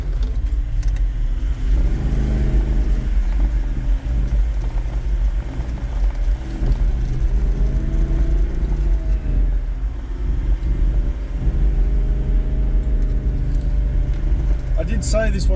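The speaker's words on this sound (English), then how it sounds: "You can hear the car working." A 4WD engine labours steadily up a steep bush track in the Wonnangatta Valley high country, a continuous low rumble and drone with slight rev changes, loud and close throughout, with talk over it.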